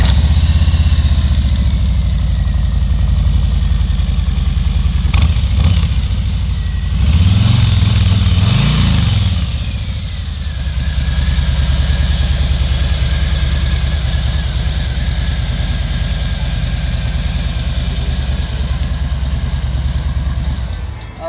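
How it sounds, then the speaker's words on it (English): A 2020 Harley-Davidson Low Rider motorcycle fires up at a dealership in Texas, a starter whir and brief rev giving way to a loud, steady, throbbing idle that runs on for many seconds. "Let's start this bike up and see how she sounds."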